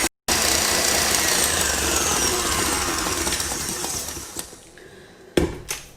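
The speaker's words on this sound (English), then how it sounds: "Add vanilla and whisk until pale in color." Sugar, eggs and vanilla are whisked for a tea cake batter: a steady, loud mechanical whirring that gradually softens and cuts off, followed by a couple of sharp knocks near the end.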